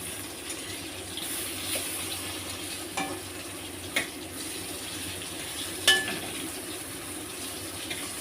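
Eggplant fries in oil with a steady low sizzle for hilsa fish curry. A few faint clinks from a spatula sound against the pan, with no talking.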